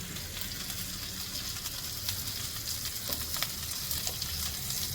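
Mac and cheese bubbling and sizzling on a Blackstone flat-top griddle, a steady close hiss with soft pops and crackles throughout and no talking.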